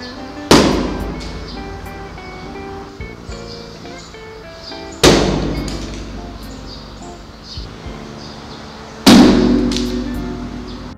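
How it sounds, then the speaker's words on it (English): Three sharp, loud bursts of air fire at regular intervals, each a sudden thump that fades quickly, with quiet background noise in between. "This is an air cannon."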